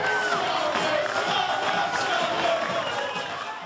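Home supporters in a football stadium, fans of VVV, whistle at their own team: a dense, sustained wash of shrill whistles and jeering from a large crowd, loud and continuous before easing slightly at the end.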